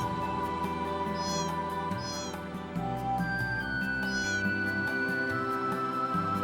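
Cats meowing in the video game Xenogears, several short rising mews repeated over a steady musical background, fairly faint and without talk.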